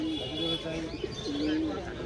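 Pigeons coo repeatedly at a busy outdoor pigeon market in Mirpur, Dhaka, their soft rolling calls rising over a steady crowd murmur and background chatter.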